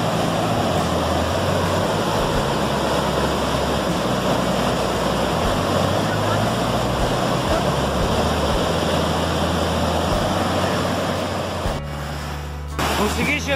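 Roaring waterfall at Salto do Rio Bonito in Juti, heard from the foot of the falls as a loud, constant broadband rush of pounding water, briefly dipping near the end.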